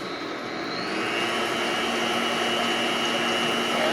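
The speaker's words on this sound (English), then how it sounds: "turning that up to 8 on my mixer. And get the cream cheese and the butter incorporated" A stand mixer set to speed 8 whirs steadily as it beats cream cheese and butter for frosting, a loud continuous motor drone throughout with no talking.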